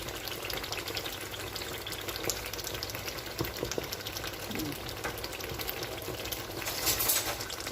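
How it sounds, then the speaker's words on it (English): Assorted meat stew frying in oil in a pot, giving a steady low crackle and sizzle that runs unbroken the whole time, moderately close with no talk over it. "the more the stew fry, the more the oil comes out"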